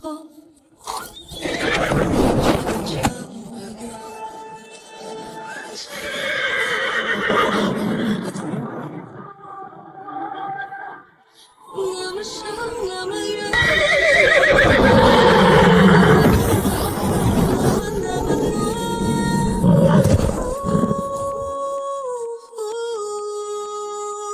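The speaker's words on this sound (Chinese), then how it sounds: "往西50里的落日沙谷有一群极品汗血野马群，头马是一匹黑色的龙驹，脾气可暴躁了" A herd of wild horses neighs and whinnies, led by a fiery black stallion, in a sunset sand valley; loud repeated calls overlap with dramatic music and talk in an animated drama.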